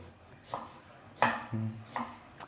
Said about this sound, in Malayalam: അതിലേക്കുള്ള സാധനങ്ങളൊക്കെ അരിഞ്ഞ് വെക്കുകയാണ്